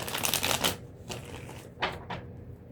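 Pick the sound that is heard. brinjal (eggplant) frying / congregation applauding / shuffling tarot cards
shuffling tarot cards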